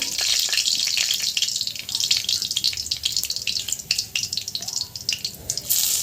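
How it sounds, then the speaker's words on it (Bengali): Two bay leaves crackle in hot mustard-style oil in a kadai, a busy steady sizzle with scattered sharp pops and drips running throughout, close and moderately loud, no talking. "তেল গরম হতে দিয়ে দিলাম দুটো তেজপাতা ভালো করে লাল করে ভেজে নেবো"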